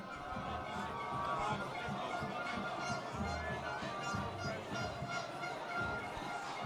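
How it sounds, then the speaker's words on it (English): Silverstream supporters at a secondary school rugby premiership final chant and cheer from the stands, a distant, steady crowd roar with rhythmic chanting that carries on throughout while a commentator talks over it. "The Silverstream crowd erupts, chanting scoreboard to the Town supporters"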